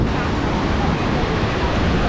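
Surf rolls onto the beach at Playa Miramar in Tampico as a steady, loud, broadband roar. Wind buffets the microphone throughout, and there is no clear break between waves.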